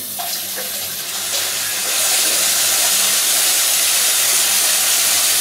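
Water runs steadily from the spout of a kitchen mixer faucet after a washer replacement on the gooseneck, a continuous close hiss that swells slightly louder partway through, with no talking.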